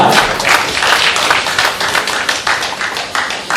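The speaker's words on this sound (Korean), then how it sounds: "하나님께 큰 영광의 박수 올려드리겠습니다" Loud, dense applause from a youth church congregation during a middle-school worship service, a continuous close roar of many hands clapping for the full stretch.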